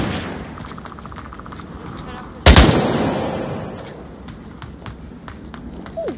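A single loud gunshot with strong recoil sounds in the VR shooter Onward, followed by a fading ring amid quieter distant shots and footsteps, with people talking.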